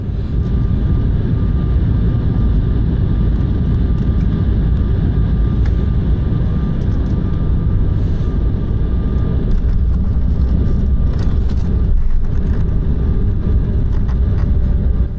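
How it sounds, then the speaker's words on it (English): Inside the cabin of an airliner on final approach to a runway in Denmark, a steady loud engine and airflow roar fills the space, with a faint tonal whine and some brief rattles toward the end. "making our final approach to runway 26"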